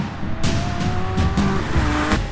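A Lamborghini Aventador SVJ Roadster supercar on the move with the roof down, its engine snarling loudly through quick rising and falling revs, with sharp bursts as it works through the gears.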